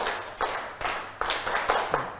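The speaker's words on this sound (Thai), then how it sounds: "ขอเสียงปรบมือ10ครั้งกันนักเรียน" A handful of hand claps ring out at separate, fairly even intervals, crisp and close against a quiet room, with a schoolroom feel.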